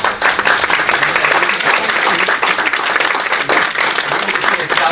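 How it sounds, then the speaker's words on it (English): A crowd applauds steadily at a board meeting, dense clapping that stays loud and even from start to finish. "I just want to give a round of applause to the foundation board members"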